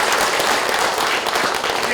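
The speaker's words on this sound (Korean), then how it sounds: "이 자리에 없지만 박수 한번 보내주십시오" Audience applause at a Democratic Party delegates' workshop in a hall, dense steady clapping for the full stretch with faint voices mixed in.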